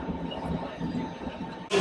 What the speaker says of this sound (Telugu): Gleis 15, Einfahrt S9 nach Flughafen BER.